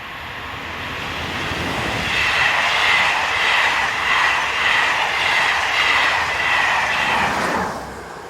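SNCF locomotive 7240 hauls a service from Paris along the Mâcon to Chalon-sur-Saône main line, a loud rushing roar and rattling wheels passing close for several seconds before fading, with no voices.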